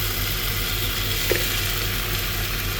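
Rice tipped onto onion and garlic frying in a pan for chicken mandi gives a steady, close broadband sizzle that holds evenly throughout, with one brief soft clink partway through and no talking.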